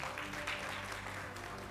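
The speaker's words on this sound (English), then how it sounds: "A round of applause for Daya." Audience applause at a professional conference on audit and accounting, a brief, faint, steady wash of clapping from a crowd heard at a distance.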